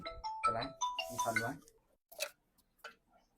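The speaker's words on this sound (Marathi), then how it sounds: "अरे हे बायकोचा फोन आला" A mobile phone rings with a short melodic ringtone for about a second and a half, fairly close, then gives way to a few faint, brief sounds.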